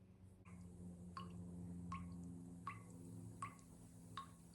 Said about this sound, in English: Sounds like a faucet is leaky, or like these little water droplets are falling down, smacking some surface.